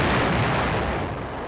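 Heavy artillery guns fire in a loud, dense broadband blast that fills the whole clip and slowly tapers off, with no voices.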